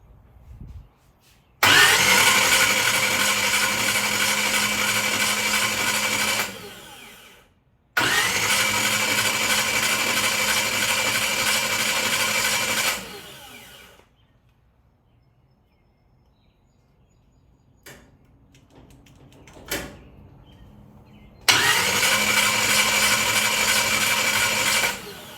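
A Buick Straight 8 engine cranked by its starter in three long whirring bursts of several seconds each, separated by quiet pauses, loud and close with no talking.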